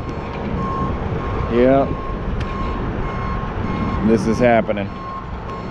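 A tow truck reverses nearby, its backup alarm chirping in repeated beeps over a steady engine rumble and outdoor noise while someone talks.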